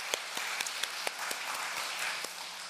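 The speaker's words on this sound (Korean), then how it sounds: "우리도 박수로 권사님의 생일 축하드릴까요?" A church congregation claps together for a deaconess's birthday: steady, mid-level applause with sharper individual claps standing out from a dense wash of hand sounds.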